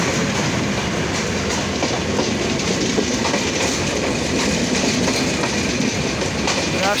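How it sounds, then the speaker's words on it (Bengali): A passenger train rolls past close by on a Bangladeshi line near Dhaka, a steady loud rumble with rhythmic clickety-clack of wheels over rail joints and a faint metallic squeal, continuous throughout with no talking. "দেখা যাক এটা কী ট্রেন হতে পারে।"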